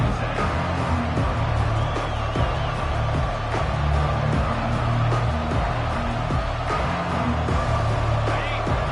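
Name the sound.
football stadium crowd roaring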